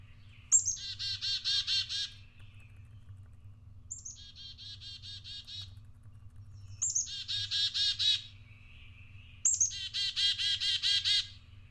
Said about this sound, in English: One such example is the black-capped chickadee, singing its name, chickadee-dee-dee